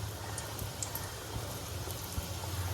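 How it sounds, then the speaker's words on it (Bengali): Sindhi satpura pastry fries in hot oil, a faint, continuous bubbling sizzle with scattered soft pops, quiet and steady throughout with no voices. "এবার আমি গরম তেলে ছাড়ছি।"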